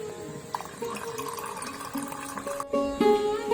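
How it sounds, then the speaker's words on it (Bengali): Vinegar poured into a cup while making an amla pickle, a thin trickling liquid sound that rises in pitch as the cup fills, close and fairly quiet. "এবার এক কাপ পরিমাণ ভিনিগার দেব ভিনিগারটা এই কাপের মধ্যে ঢেলে নিয়ে"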